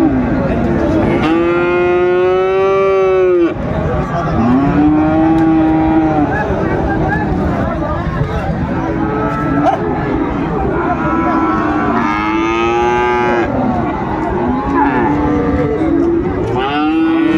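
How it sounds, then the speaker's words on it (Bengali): A Friesian bull calf at a cattle market in Dinajpur moos loudly and repeatedly in long, drawn-out calls over continuous market bustle. "কোয়ালিটি সম্পন্ন বাচ্চাটি, ফ্রিজিয়ানের ষাঁড় বাচ্চা"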